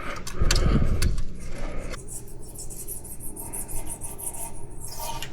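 Scraping and rubbing on the engine gasket mating surfaces of a 2024+ GMC Sierra HD with an L5P Duramax diesel, during EGR system removal; a loud rasping burst at first, then steadier, quieter scrubbing strokes.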